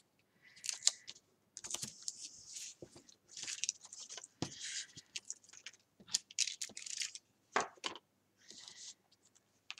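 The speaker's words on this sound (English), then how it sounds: "This is so much easier to cut with a craft knife than what it is to cut with a pair of scissors." A blade scores and slices through paper in short scratchy strokes, close and quiet, with brief pauses between cuts.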